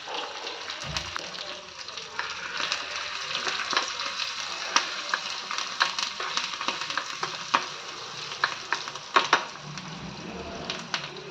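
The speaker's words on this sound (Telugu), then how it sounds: "కలర్ చేంజ్ అయ్యేంత వరకు ఇలా వేయించుకోవాలి." Onions and garlic frying in a pan for gongura dal, with turmeric just added, a steady close sizzle broken by frequent sharp spatula scrapes and stirs.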